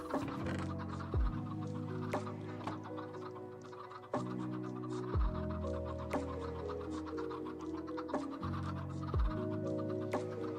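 Chickens in a modded Minecraft world cluck in short, repeated bursts over a steady layered game soundtrack, with occasional sharp clicks and pops scattered through.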